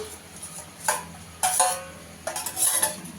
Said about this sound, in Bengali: এখন কুমড়োটা দিয়ে দেবো।